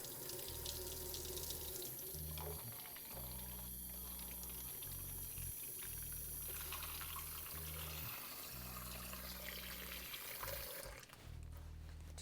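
A kitchen tap runs steadily as water is drawn for bread dough, a continuous near rush and splash with small shifts in flow and no talking.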